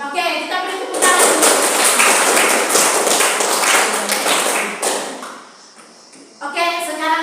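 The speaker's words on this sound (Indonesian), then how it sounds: "Oke, kita beri tepuk tangan." A classroom of students claps in a loud, dense burst of applause that fades, then picks up again briefly at the end.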